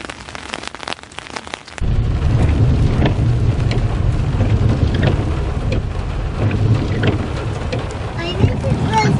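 Rain falls steadily on a rainy day, with a dense, continuous patter that starts abruptly and keeps going while people talk nearby.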